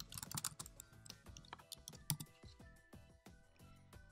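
Typing on a computer keyboard in a quiet room, an irregular run of soft close key clicks with no voices.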